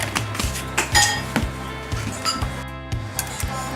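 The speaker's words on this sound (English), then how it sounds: "Stir it well." A spoon stirs Lao tapioca rice noodle soup in a pot, knocking and clinking against the metal in a steady rhythm of sharp taps, close and fairly loud, with no talk.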